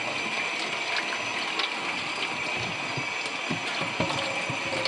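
Steady water running from a tap in a garage-type setting while hands are washed, a constant hissing stream with faint clicks and clatter throughout, fairly quiet and without talk.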